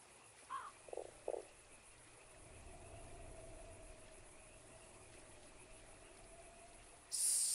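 In the game Fran Bow, a frog gives a quick run of three short croaks, then low ambient drone and crickety hiss carry on until a sudden bright burst near the end.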